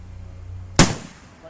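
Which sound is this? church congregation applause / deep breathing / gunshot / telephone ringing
gunshot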